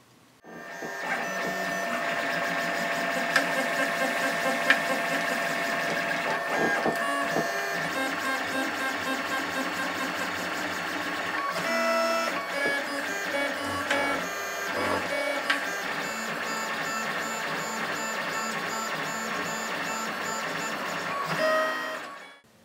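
A 3D printer printing a small plastic anchor point, its stepper motors whining and buzzing in shifting tonal patterns, steady and close throughout.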